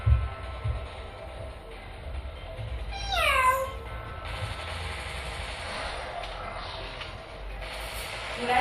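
A cat meows once in a rising, drawn-out call partway through, heard against steady indoor background noise with no talking.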